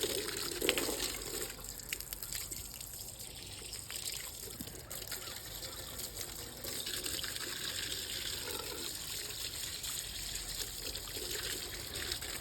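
Water from a hose with no spray nozzle rinses an arcade monitor, a steady low-pressure trickle and splash running continuously and fairly quiet throughout.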